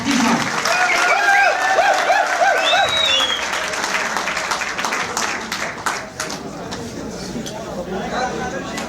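Hand clapping from a crowd at a college party, loud and continuous, with voices and shouts over it at first before the clapping carries on alone.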